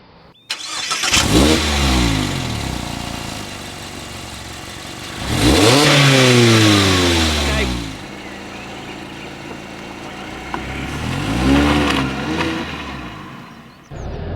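A 2023 Mazda MX-5 sports car's engine is heard while driving, swelling in three loud revving surges with rising pitch sweeps, around 1, 6 and 12 seconds, between steadier cruising drone.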